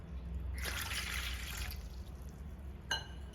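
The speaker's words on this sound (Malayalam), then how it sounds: "വെള്ളം ചേർത്ത് കൊടുക്കാം" About two cups of water poured into a cooking pot of soaked sabudana for Kerala-style payasam, a brief splashing pour lasting about a second, then a single sharp clink from the vessel.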